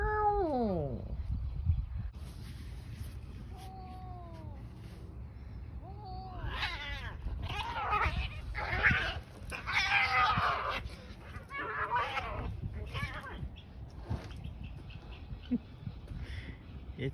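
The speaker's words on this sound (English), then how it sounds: "It's a good kitty fight." Cats yowl and caterwaul in a drawn-out fight, rising wails giving way to loud, harsh squalls and screeches at close range.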